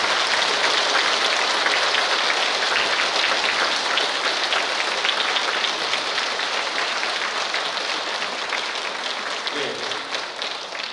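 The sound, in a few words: applause welcoming the bishop to the altar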